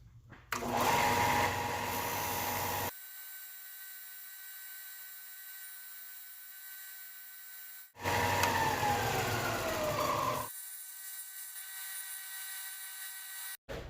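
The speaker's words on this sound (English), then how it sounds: "We are at the table sander. We're gonna shape this bait and get it to perfection." A table sander shapes a wooden crankbait in a shop, its steady whine running loud for a few seconds, dropping to a quieter motor hum, then surging again as the lure is pressed to the abrasive before settling back.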